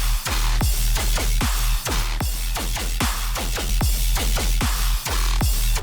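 Thick tearout bass electronic music made in Serum 2 and processed by the Soundgoodizer plugin, with a steady pumping beat, loud and full throughout.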